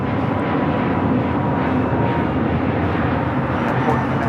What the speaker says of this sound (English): This is American Airlines Flight 850 taking off to Phoenix on the A321neo.